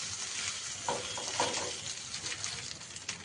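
Grated boiled potato being stirred and mixed with spices in a hot pan for Bengali egg chops, a soft steady sizzle with scraping stir strokes, no talk.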